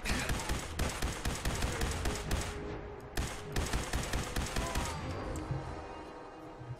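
Rapid gunfire from a Fallout 4 firefight, dense bursts of shots in quick succession that stop briefly near the middle and again toward the end, loud and close with no talk.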